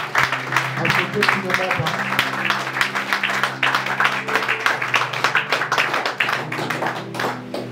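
Congregation applauding during a church ordination service, a dense, steady wash of clapping running the whole time, with some voices mixed in beneath it.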